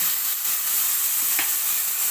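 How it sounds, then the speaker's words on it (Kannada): Eggplant sizzling in hot oil with mustard seeds and curry leaves, a steady close frying hiss with a brief stir scrape partway through. "ಚೆನ್ನಾಗಿ ಎಣ್ಣೆಯಲ್ಲಿ ಫ್ರೈ ಮಾಡ್ಕೊತಾ ಇದ್ದೀನಿ."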